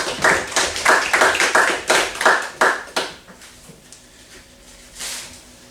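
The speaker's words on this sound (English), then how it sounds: "So let's give her a round of applause, even though she's not here." A round of applause at a regular public board meeting, dense hand clapping from a small group that thins and fades out after a few seconds.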